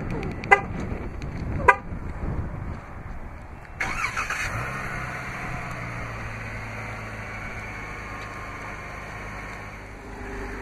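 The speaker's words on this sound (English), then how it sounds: "Just double press the remote start button on the key fob." A 2016 Chrysler 300S AWD is started remotely from the key fob. Two short fob beeps are followed by the engine cranking and catching, then settling into a steady, moderately loud idle with no talking.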